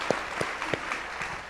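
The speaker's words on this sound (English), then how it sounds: "you have applause in the audience as well" Faint applause from a fundraiser audience, a thin wash of clapping with a few sharper, separate claps standing out.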